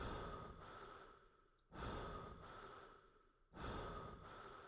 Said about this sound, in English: I can only hear my own breathing.